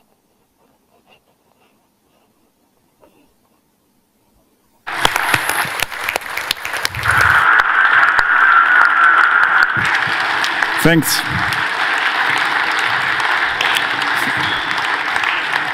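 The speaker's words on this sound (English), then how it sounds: "there was the applause." Audience applause after a talk on the Great Barrier Reef: several seconds of silence, then steady, dense clapping that starts abruptly and continues to the end, with a brief spoken word of thanks over it.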